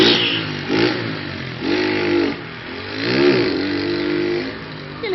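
A motorcycle engine revs hard while climbing in first gear, the pitch rising and falling in repeated surges as the rider works the throttle, loud and close with no talk.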